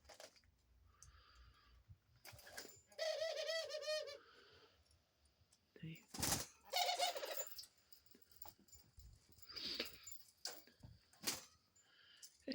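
A dove perched on a person's shoulder, close, soft rhythmic cooing phrases in a few bouts separated by quiet gaps, with occasional rustles and brief clicks nearby.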